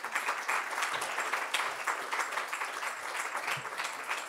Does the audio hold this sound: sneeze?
no